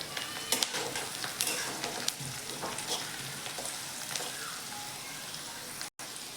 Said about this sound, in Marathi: आपण चवीनुसार मीठ टाकून घेऊयात, कारण का आपला कांदा लवकर असा परतेल